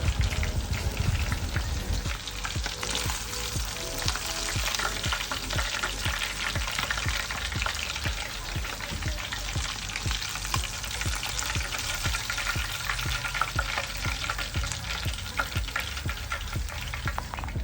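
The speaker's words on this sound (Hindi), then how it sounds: "क्रिस्पी चिकन स्टिक जो है वो अच्छी तरह से फ्राई हो चुकी है दोनों साइडों से।" Crispy chicken sticks deep-frying in oil, a dense continuous bubbling crackle like rain on a surface, steady and fairly close throughout, with no voices.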